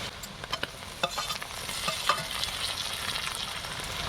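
Tomato goes into a pan of softened onions for an egg and potato curry, bringing a close, quiet sizzle of frying with scraping stirs and light clinks from the spoon, and no talking.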